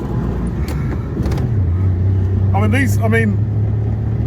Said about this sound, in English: You can hear the full two-stroke.